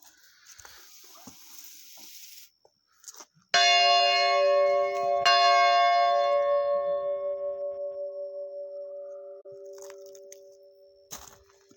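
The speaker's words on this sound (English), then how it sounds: "I'm gonna hit this bell. I hit it every time I come here." A large outdoor bell is struck once, sharp and loud, then rings out with a long shimmering hum that slowly pulses and fades over several seconds, with a little wind and rustle before the strike.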